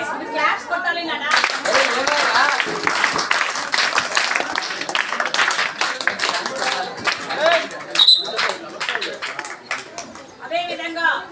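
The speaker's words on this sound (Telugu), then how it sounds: "క్లాప్స్ కొట్టాలి నానా." An audience at a school function claps in a dense, steady patter that runs throughout, with a voice speaking over it at the start and end.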